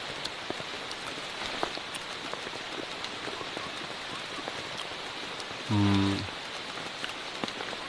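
Steady rain patters on leaves and surfaces all around in a tropical rainforest, with scattered sharper drops and a brief low voice partway through.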